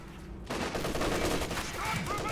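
A German MG34 machine gun fires in a Company of Heroes 2 match, with bursts of rapid, sharp shots starting abruptly and continuing loud and dense over a noisy battle soundscape.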